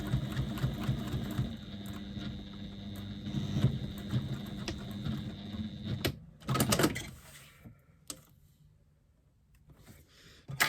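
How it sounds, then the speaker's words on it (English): Sewing machine top stitching about an eighth of an inch from the edge, a steady whirring run of stitches for several seconds, then it stops and a few soft handling clicks follow in near quiet. "And I'm top stitching at about 1/8 of an inch."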